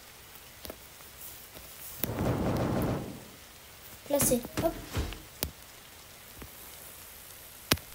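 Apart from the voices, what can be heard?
rain falling in video game 99 Nights in the Forest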